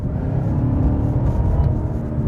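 A 2016 Cadillac CTS-V Coupe with a 640-horsepower engine gives a steady, close, full-bodied rumble. The deep engine tone keeps up a constant level for a couple of seconds and has no talk over it.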